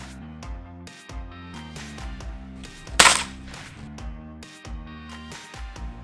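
A JPX6 four-shot pepper gun fires practice ammo: one sharp, loud crack rings out midway, set against steady rhythmic background music.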